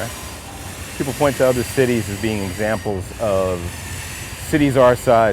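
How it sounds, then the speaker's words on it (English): An Amtrak train rumbles faintly past in the background, a low steady presence beneath someone talking continuously in the foreground. "You can hear the Amtrak train in the background,"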